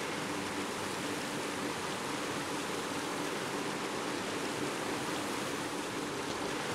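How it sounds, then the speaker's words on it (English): A waterfall in the video game Uncharted 2 roars as a steady, broad rush of falling water, constant and fairly loud with no breaks and no voices over it. "look at the beautiful waterfall"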